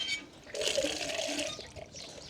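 Water is poured into a garden sprayer tank for spraying cabbage in a vegetable garden, a close, gurgling rush of filling liquid that swells after a brief lull and continues steadily.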